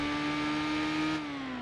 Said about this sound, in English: we just gotta do 2 quick laps around here in the MX-5